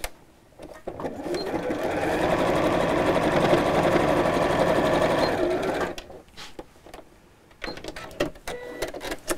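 A sewing machine stitches straight across a messenger bag in one steady, buzzing run of about four seconds, with softer handling clicks and rustles before and after.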